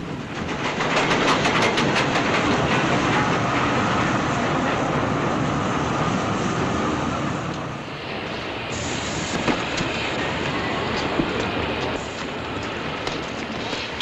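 A train rumbles steadily at a railway station, loud continuous rolling noise with faint clicking that eases and drops lower partway through, no voices.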